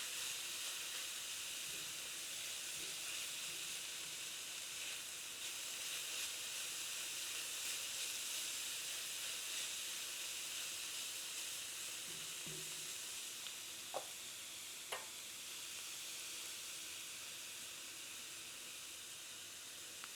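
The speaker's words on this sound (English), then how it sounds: "Fry this for another couple seconds" Raisin rice fries in a pan with a soft, steady sizzle and hiss lasting throughout, a few light clicks of a utensil near the end, no voices.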